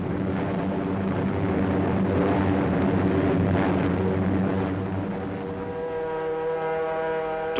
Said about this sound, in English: In one raid on Rangoon, 56 B-29s participated.